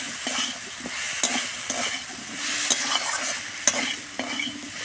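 Spice paste frying with mustard paste in a pan, a steady close sizzle with rhythmic scraping strokes of a spatula stirring, and no voices.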